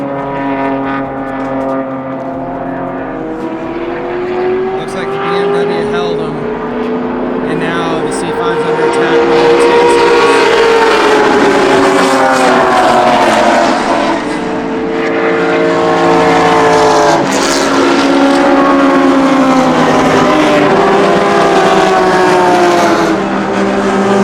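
Race cars, including a grip-heavy BMW and a fast Acura TSX, lap a circuit during a Time Attack Super Lap Battle. Their engines roar loudly and continuously, and the rising and falling pitch sweeps as the cars pass and shift.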